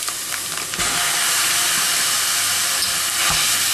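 500 grams of minced beef sizzles in a hot pan with a steady, bright hiss that carries through with small crackles and pops.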